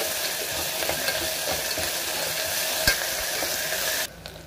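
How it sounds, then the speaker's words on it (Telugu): Ginger garlic paste sizzles and fries in hot oil in a pan for a chicken pulao, a steady close hiss with light stirring that drops off abruptly near the end. "ఈ అల్లం వెల్లుల్లి పేస్ట్ కూడా ఈ ఆయిల్లో బాగా ఫ్రై అవుతుంది."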